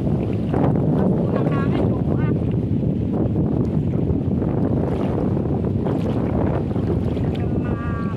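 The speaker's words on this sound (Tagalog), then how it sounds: "Hangin." Strong wind buffets the microphone in a constant roar, with faint voices talking underneath.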